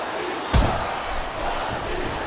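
Wrestling crowd in the Xbox 360 game WWE Smackdown vs RAW 2008, a steady roar under the action with one sharp slam-like impact near the start.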